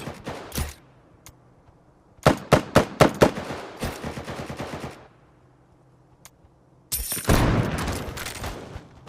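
Shotgun blasts in a video game: a lone shot, then a rapid run of sharp, loud booms, a quiet gap, and a final heavier burst, punchy and close with no voices.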